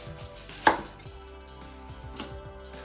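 A knife cuts through a red onion on a cutting board with a single crisp thunk, followed by faint handling noises in a quiet kitchen. There is no speech.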